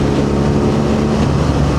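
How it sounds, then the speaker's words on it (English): BMW R nineT Scrambler motorcycle engine running at high revs, a dense, steady roar with strong wind rush, loud and continuous through the short stretch. "the engine really screams at that point"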